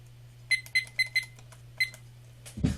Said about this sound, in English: Sorry, I got to start my timer.